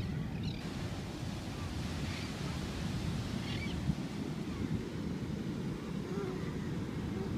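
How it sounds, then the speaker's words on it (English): Ocean waves wash steadily against a beach in the wind, a constant close surf rush with some wind buffeting and faint voices in the background. "So we're here at the beach."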